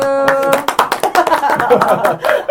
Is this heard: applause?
yes